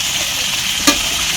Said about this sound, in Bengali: মানে লবণ আর হলুদ দিয়া মাছের মাথাটা ভেজে নিতেছি।